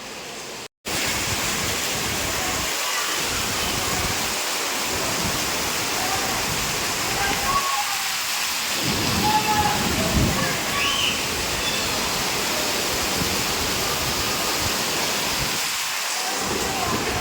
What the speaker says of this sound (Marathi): मी दाखवते तुम्हाला कसा पाऊस पडतोय ते